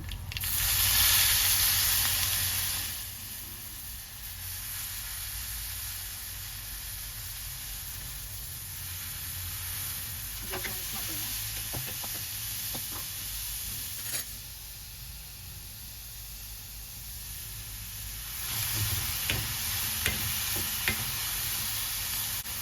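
Chopped banana flower, squeezed after salting, is dropped into a hot pan and sizzles with a steady frying hiss, with light stirring scrapes and occasional clinks. A louder burst of sizzle comes at the start and again near the end.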